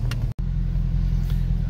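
A 1981 Aston Martin V8 Volante under acceleration gives a steady, loud low engine rumble with a brief dropout near the start. The drone holds even throughout, with no talking.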